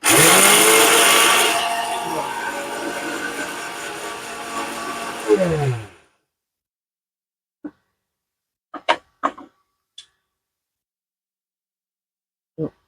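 An electric mixer grinder whirs loudly and steadily for about six seconds, grinding chilli and spice masala for chevdo, then shuts off, followed by a few sharp clicks and taps in the quiet.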